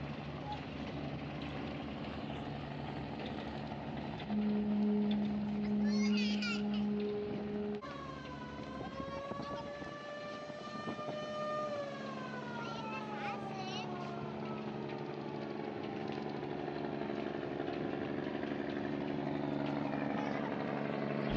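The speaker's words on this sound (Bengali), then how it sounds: "এটা হচ্ছে ইঞ্জিনের সাইলেন্সার" The engine silencer on the roof of the Doyel Pakhi 8 river launch drones steadily and loudly at close range, with a sustained rumbling hum and shifting tonal whine, and a voice speaking over it.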